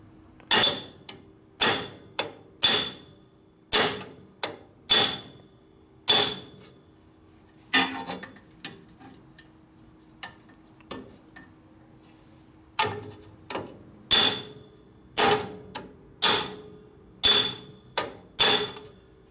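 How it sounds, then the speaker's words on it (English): Repeated metallic hammer strikes on a punch against a 1952 Harley panhead cylinder head during a top-end rebuild, ringing sharply in uneven bursts with short pauses between groups, close and distinct. "I have to keep hammering on it."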